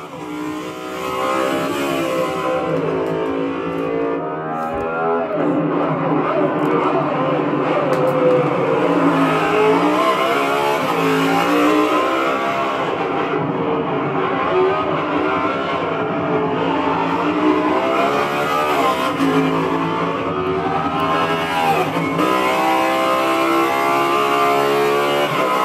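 A BMW Z4 GT3 race car from Good Smile Racing revs hard, its engine climbing and dropping through the gears in a steady, loud, close roar that lasts throughout.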